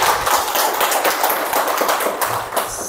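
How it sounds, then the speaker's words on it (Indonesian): Audience applause at an educational innovation presentation for an online elementary school, dense steady clapping from many hands filling the room for about three seconds before thinning slightly at the end. "Mari kita tepuk tangan dulu."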